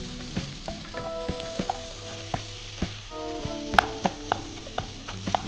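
Tomatoes sauté with chili powder in a hot pan for a vegetable biryani masala, giving a steady close sizzle broken by scattered clinks and scrapes of a stirring spoon, with no voices.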